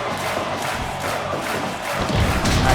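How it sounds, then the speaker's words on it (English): A backyard wrestling crowd cheers and roars continuously at close range, a dense wall of voices that swells louder toward the end, with occasional thuds mixed in. "Blake's House faithful cheering on the People's Champion"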